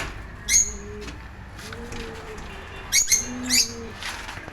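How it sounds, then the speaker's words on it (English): Many birds crowded in a big crate, with pigeons giving soft low coos alongside a few sharp chirps and wing flutters, close by and scattered over a faint background. "there's so many birds here inside the big crate"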